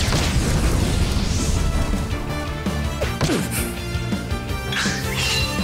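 A fire spell from the game Octopath Traveler II, a loud crackling, booming burst with whooshing flames and impacts, mixed with game music and a voice.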